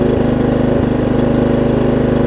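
Lowe's riding mower engine running on a newly fitted carburetor with a drilled-out low-side jet, a loud, close, steady idle with an even throbbing pulse and no talk.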